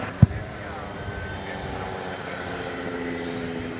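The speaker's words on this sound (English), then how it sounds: "Here comes a Cessna 208B Super Cargo Master just arriving." Cessna 208B Super Cargo Master turboprop arriving at DFW at night, a steady distant engine drone with a single sharp knock near the start and voices talking over it.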